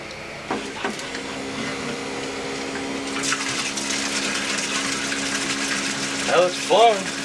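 Pump pushing water through the freshly plumbed ice tank of an LS-swapped Foxbody build, a constant hum with a steady tone, with bubbling gurgles and a few clunks over it and a person talking briefly.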